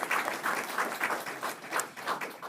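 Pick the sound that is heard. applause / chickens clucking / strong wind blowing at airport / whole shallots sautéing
applause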